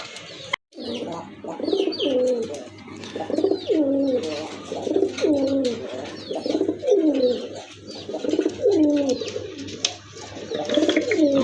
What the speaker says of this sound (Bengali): এটা কিন্তু অরিজিনালি গোল্লা কবুতর, দেশি কবুতর